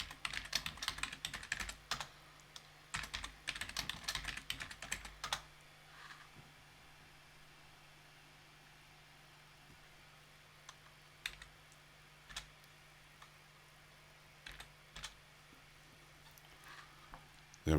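Someone types on a computer keyboard in quick close clicking bursts over the first five seconds, then pauses and adds a few scattered keystrokes in a quiet room.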